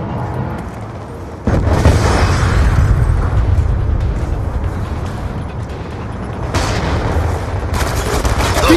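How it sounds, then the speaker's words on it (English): Heavy missile strike explosions in Black Ops 2 multiplayer, a dense run of booms and crackling blasts kicking in abruptly and rolling on loud and continuous, with a fresh burst of detonations near the end. "Friendly Hellstorm missile inbound"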